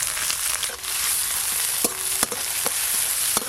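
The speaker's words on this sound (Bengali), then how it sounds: "এবার দেব পেঁয়াজ কুচি।" Chopped onion sizzling loudly in hot mustard oil over a wood-fired stove, a dense steady hiss with sharp spatter pops and a few stirring clinks.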